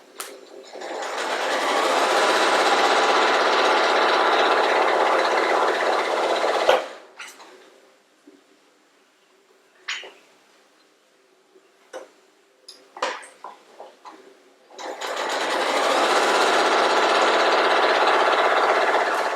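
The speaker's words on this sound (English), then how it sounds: "Next, we'll go to the sewing machine." Sewing machine stitching quilt block units in light, medium and dark fabrics, running in two long loud bursts at the start and end, with quiet handling clicks and taps between them and no talking.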